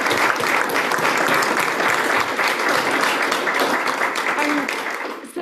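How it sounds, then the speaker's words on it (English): A sustained round of applause fills an indoor awards hall for Dr. Njar at the UMB Entrepreneur of the Year event, dense and even before trailing off at the end. "Everyone, let's give him another round of applause."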